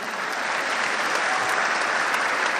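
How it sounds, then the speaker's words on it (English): An audience applauds Palestinian lecturers at a student gathering with Malaysia's prime minister at IIUM, a dense, steady wash of clapping that holds at full volume throughout. "Let us have a big round of applause for our Palestinian lecturers and friends."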